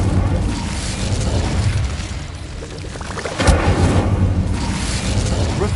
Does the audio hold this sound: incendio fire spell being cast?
yes